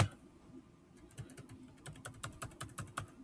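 Rapid computer keyboard typing while coding a RESTful routing example, a run of close, crisp keystrokes that quickens into dense clusters, with no talk over it.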